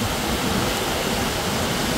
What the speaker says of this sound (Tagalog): ginagawa po ito ng mga dams para mag-release ng tubig para po maprotektahan yung dam